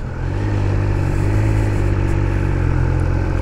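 A 2021 Triumph Speed Triple RS three-cylinder motorcycle engine runs close by at a steady, loud idle-to-rev drone with a throbbing low rumble and no speech.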